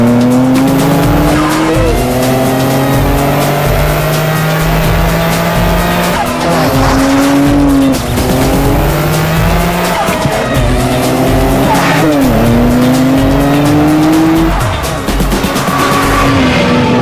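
A Nissan GT-R's turbocharged engine pulls hard through repeated rising revs, each climb ending in a quick drop at the gear change, loud and close with tire noise underneath.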